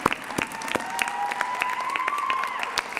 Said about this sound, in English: Let's give them one nice big round of applause